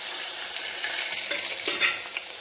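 Green garlic hits hot oil already seasoned with asafoetida, giving a bright, steady sizzle close up, with a few soft stirring scrapes and small crackles near the end.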